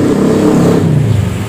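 A freshly rebuilt motorcycle engine, just reassembled after a teardown, runs loud and close with a throaty rev that rises and settles over a rough idle.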